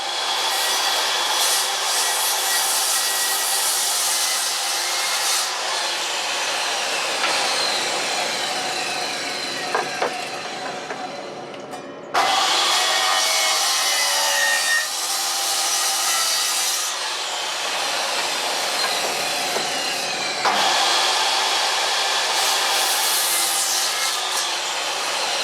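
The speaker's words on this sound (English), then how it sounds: "cut this out on the chop saw, and then get it sanded down and finished, ready to be mounted" Wood being cut on a chop saw and then sanded down, with long continuous rasping and grinding passes broken by brief pauses, loud and close throughout and no voices.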